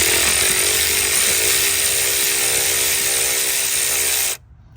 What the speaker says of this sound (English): Power tools are the best in this situation